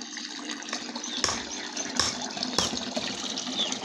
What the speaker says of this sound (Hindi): पहले दोस्तों फाउंटेन को चालू करता हूँ। चालू कर दिया। यहाँ से सबसे पहले पानी आएगा